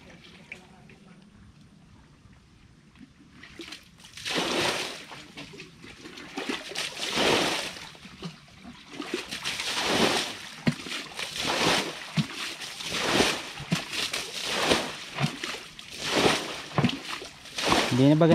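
Water sloshes and splashes repeatedly as it is bailed out with buckets, rhythmic bursts of pouring and slopping close by, under people talking.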